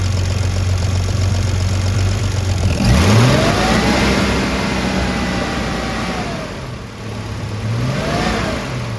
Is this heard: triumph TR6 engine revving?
yes